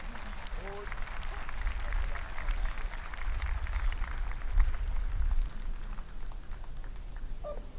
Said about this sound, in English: Ladies and gentlemen, join me in another round of applause for these cadets who were recognized this morning.